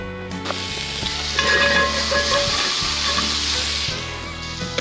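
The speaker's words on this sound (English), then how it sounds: "start caramelizing our garlic and onions" Garlic and onions caramelize in a pan at a camp cookout, a loud close sizzle with rising hiss and scraping stir sounds across the whole stretch, no talking.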